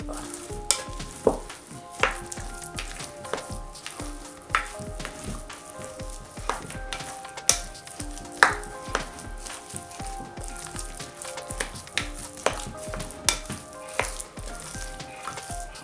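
Egg replacer being stirred into cornbread dressing, heard as repeated spoon knocks and scrapes against a bowl over a soft background hiss, with a steady rhythm of strokes and no voices.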